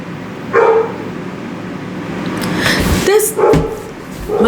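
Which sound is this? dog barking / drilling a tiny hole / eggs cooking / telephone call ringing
dog barking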